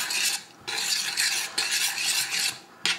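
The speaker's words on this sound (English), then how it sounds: "So just give them a good stir around." Chicken livers stirred around in a pan, bursts of bright scraping and sizzling broken by short pauses as the spoon moves, close and fairly loud with no talking.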